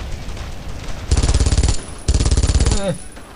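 Bursts of rapid automatic gunfire in the World War II shooter game Brothers In Arms: Road to Hill 30, two loud sustained volleys separated by a short gap, followed by a brief descending whistle-like tone.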